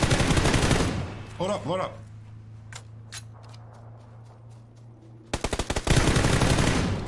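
Video game gunfire, heard as a rapid close burst of automatic shots after a brief stretch of talk, then scattered single reports farther off and another loud burst at the end.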